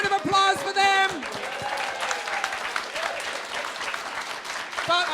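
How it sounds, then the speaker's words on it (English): An audience at a debate event claps for the winning team, a steady wash of applause near and loud that fades slightly, preceded and followed by a host's amplified voice. "Round of applause for them."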